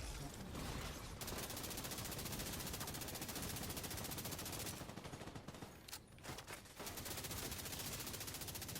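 A light machine gun in The Division 2 fires loud, sustained automatic bursts for almost the whole stretch, with a few short breaks in the middle before the rapid fire resumes.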